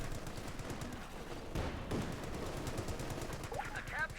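Heavy machine gun team firing in the Company of Heroes 2 real-time strategy game, a steady stream of rapid bursts under continuous overlapping game noise and commentary, with a sharp louder burst partway through.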